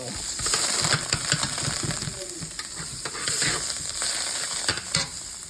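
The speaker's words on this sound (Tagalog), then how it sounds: "luluto lang natin ito very quick sa butter at saka sa garlic" Mussels cooking in butter and garlic in a pan, a continuous sizzle with scraping stir strokes and a few soft metallic clinks, moderately close, no talking.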